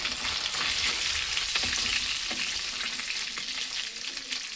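Fried fish lifted from hot oil for a Bengali fish curry, with a dense, steady sizzle throughout and a few faint scrapes of a utensil in the pan.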